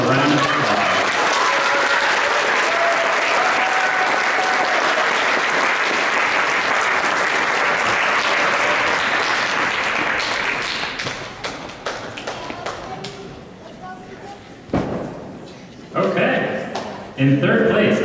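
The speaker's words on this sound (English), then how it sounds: "Let's give them a round of applause." A school science fair audience applauds third place award winners with loud, dense, steady clapping that fills most of the stretch. It then breaks into scattered claps and thuds as it dies down.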